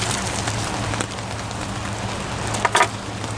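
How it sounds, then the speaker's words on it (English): A chuck roast sears over an outdoor campfire, a loud continuous hissing sizzle like heavy rain, with a brief flurry of crackling pops near the end. "It's time to sear the meat."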